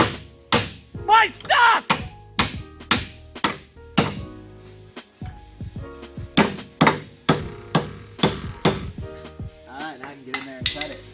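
Someone hammers on the body of a Datsun 280Z during an engine-swap build, striking about a dozen loud, sharp metallic blows in an uneven rhythm, with brief shouted speech between some hits.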